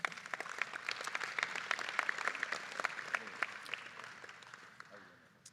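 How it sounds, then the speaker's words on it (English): Audience applause at an Indigenous graduation celebration, a round of crisp hand claps that holds steady and then tapers off toward the end. "A big round of applause for him."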